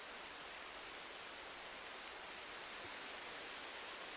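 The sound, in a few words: loud rain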